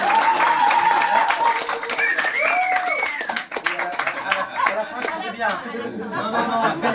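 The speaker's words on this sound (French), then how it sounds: "Donc je veux bien vous applaudir." Audience in an improv show breaking into applause and clapping for two guests, Farid and Aurore, with crowd chatter and light laughter mixed in, steady and close throughout.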